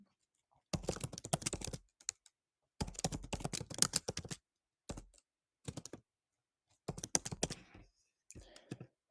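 Someone types a name on a computer keyboard in quick bursts of close, crisp key clicks separated by short silent gaps.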